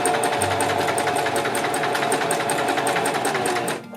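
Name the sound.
sewing machine stitching collar stand of button-up shirt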